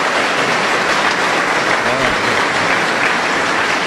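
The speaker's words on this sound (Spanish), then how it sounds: "Aplauso para el Señor Jesús." Steady, dense applause from a Pentecostal church congregation in Huancayo fills the space, a continuous close wash of clapping with no pauses.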